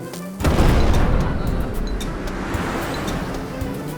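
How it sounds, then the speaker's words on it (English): A cartoon volcano erupts with a sudden deep rumbling boom that swells loud and then settles into a sustained roaring rush, like heavy surf, for several seconds. "Oh no! I think the volcano is erupting."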